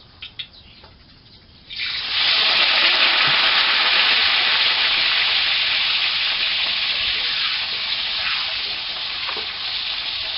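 Raw Hom Thong bananas dropped into hot oil in a pan burst into a loud, dense sizzle after a quiet couple of seconds, then keep frying steadily with a few faint clinks.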